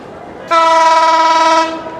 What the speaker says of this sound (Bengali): বনলতা এক্সপ্রেস এখনই প্রবেশ করছে ঢাকা বিমানবন্দর রেলওয়ে স্টেশনের 1 নম্বর প্ল্যাটফর্মে